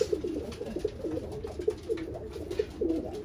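Pigeons being bred in a loft coo repeatedly in soft, rhythmic low phrases, several calls overlapping at close range against faint background noise.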